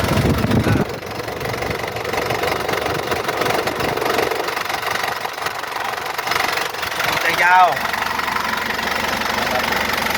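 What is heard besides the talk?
engine of a used four-wheel pickup idling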